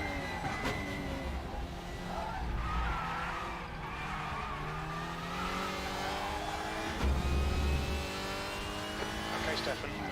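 Mercedes-AMG GT4 race car in the RaceRoom sim at Hockenheimring, steady engine drone with tire scrub and skidding as it runs over a curb, with a voice talking over it.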